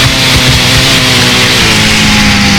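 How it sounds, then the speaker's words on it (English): A chainsaw runs in the video game Starforge, a loud, steady, buzzing drone that stays constant and dominant throughout. "The chainsaw is just how loud it is."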